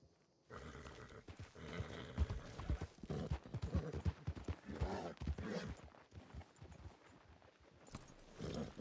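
Rapid clip-clopping of horse hooves in a video game, loud and close, with a brief lull before the trotting resumes.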